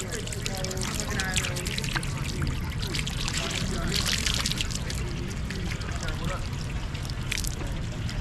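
Water trickles and splashes from a drinking water fountain in Sorrento, Italy, in a steady flow, with faint voices and background activity mixed in.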